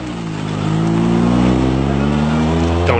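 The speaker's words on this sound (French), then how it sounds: "Quand la Clio Maxi s'éloigne" A 1995 Renault Clio Maxi rally car revs hard and accelerates away, its loud engine note holding steady harmonics that rise slightly then fade a little as it pulls off, alone without talk.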